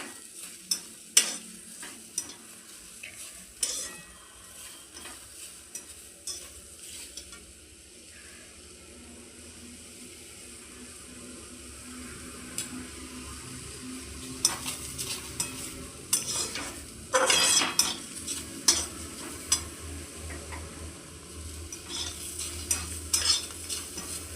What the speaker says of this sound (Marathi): चला फ्रेंड्स आपण कांदा परतून घेऊ